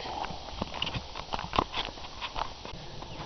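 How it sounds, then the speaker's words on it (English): A small horse carrying a rider walks near a river, hooves clip-clopping in an uneven, fairly faint rhythm over light outdoor background noise. "It's a little horse, though."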